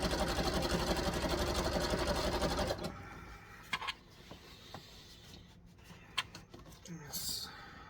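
Sewing machine back stitching elastic on wrestling tights, a fast close mechanical whir for the first few seconds that then stops, leaving scattered clicks, fabric rustles and faint handling noises.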